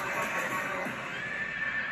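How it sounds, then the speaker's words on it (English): A horse neighs in an Indian historical war movie trailer, a shrill sustained whinny set in a dense, loud cinematic mix. "What's going to happen to the horse?"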